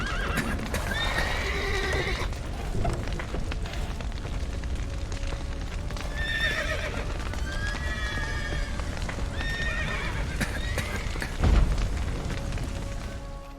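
Horses whinny and neigh repeatedly in The Witcher 3, several shrill calls rising over a constant low rumble of fire and collapsing debris, with hooves clopping and a deep thud near the end.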